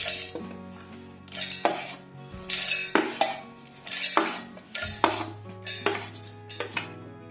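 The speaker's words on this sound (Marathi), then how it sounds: "त्यात आता आपले गार झालेले मसाल्याचे साहित्य टाकून घेऊ" Cooled, roasted chai masala spices, including dry ginger, are tipped into a steel mixer jar, giving loud clinks, knocks and rattling scrapes in quick, uneven bursts with no talking.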